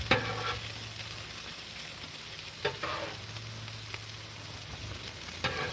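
Morel mushrooms and onions fry on a Blackstone griddle with a steady close sizzle, broken by a few scraping spatula strokes.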